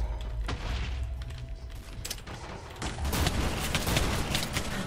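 Grenade blasts and gunfire crackle through a military roleplay video game battle, with dense, continuous combat noise and a heavier burst of explosions in the second half.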